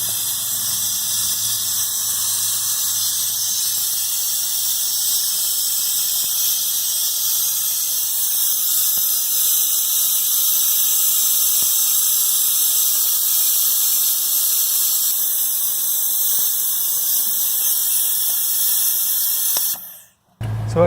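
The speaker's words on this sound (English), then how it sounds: "There's simply a trigger that you pull down and then I will crack open the brake bleeder." A Harbor Freight air-powered brake bleeder, attached to an air compressor and opened at the bleeder valve, gives a loud, steady, close hiss that runs unbroken for about twenty seconds and then cuts off abruptly. No one speaks.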